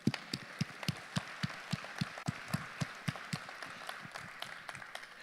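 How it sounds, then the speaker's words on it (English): Conference audience at a photonics forum gives a faint, sparse applause: a few distinct hand claps in a steady rhythm, quiet and slightly distant. "a big round of applause for those who did"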